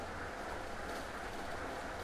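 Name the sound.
train moving in the ChronoClock video game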